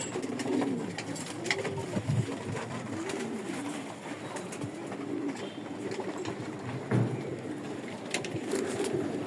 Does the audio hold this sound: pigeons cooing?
yes